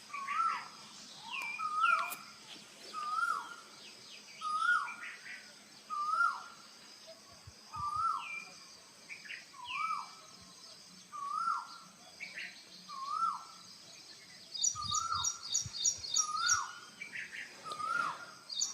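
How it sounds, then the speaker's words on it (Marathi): Outside a house in the morning, a bird repeats a clear two-note call at a steady rhythm about once a second, with fainter chirps from other birds, a few low thumps and no talk. "पक्ष्यांचा किलकिलाट चालू असतो"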